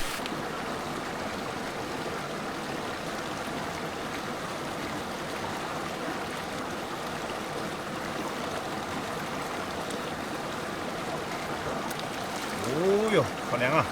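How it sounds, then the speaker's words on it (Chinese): A clear mountain stream of icy snowmelt flows beside a roadside, a continuous close rushing wash of water, with brief voice sounds near the end. "我看路边这个小溪，溪水非常清澈"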